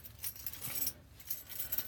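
A bunch of keys and small fobs for a 1986 Rolls-Royce Silver Spirit jangle continuously for about two seconds, a bright close-up metallic rattle with no voices.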